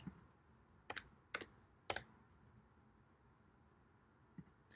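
A few isolated keystrokes on a computer keyboard, spaced clicks with a longer gap, faint and close against a quiet room background.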